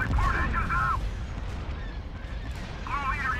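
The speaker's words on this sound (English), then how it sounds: "Why are they firing concussion missile launchers? You're bombers." Bombers fire concussion missiles in a Star Wars space battle game, producing repeated low booming thuds and rumbling bursts against a busy battle din, with voices talking in between.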